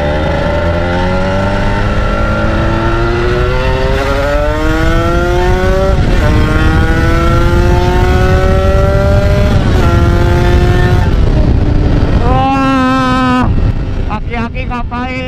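A 2010 Kawasaki Ninja RR150 two-stroke motorcycle revs hard and climbs through the gears, its rising engine pitch dropping at each shift, loud and close with wind rushing past the microphone.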